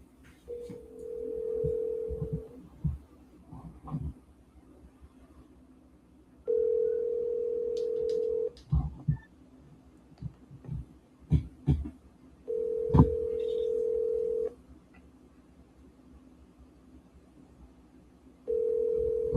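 A cell phone on an outgoing call rings back with a steady tone burst of about two seconds, repeated four times at even intervals, with faint handling clicks between rings.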